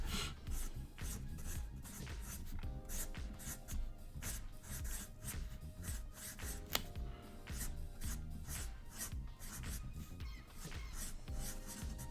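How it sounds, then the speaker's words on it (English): Pencil or marker drawing on paper during a quick art sketch, a steady close scratching and rubbing of strokes with short repeated bursts, continuous under faint background music. "still got to draw in all the Jerry curl hair and stuff"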